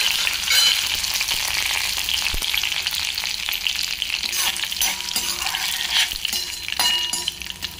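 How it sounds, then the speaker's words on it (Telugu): Mustard seeds, cumin, dried chillies and curry leaves crackle and sizzle in hot oil in a kadai, a steady close frying hiss with sharp pops scattered throughout. "ఇప్పుడు తాలింపు వేసేసుకుందాము"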